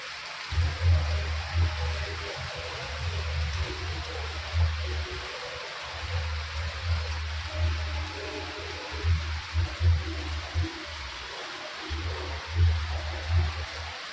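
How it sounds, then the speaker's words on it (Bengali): Steady rain pours down outdoors, a dense, even hiss with a low rumble running underneath and no voices. "যত সময় যাচ্ছে বৃষ্টি আস্তে থেকে জোরে হয়ে যাচ্ছে"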